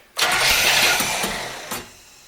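A 1975 C3 Corvette convertible's engine, long neglected, cranks and fires without the choke, then roars loudly for about a second and a half before settling to a quieter idle, with a brief catch near the end.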